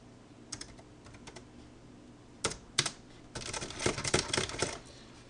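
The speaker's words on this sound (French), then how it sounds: "et puis je vais taper du texte" Typing on a computer keyboard while entering text into a LibreOffice Writer document: a few scattered key taps, two sharp clacks, then a quick dense burst of keystrokes, quiet and close with no talking.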